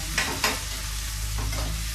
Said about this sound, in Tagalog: kailangan lutong-luto yung mga bawang, sibuyas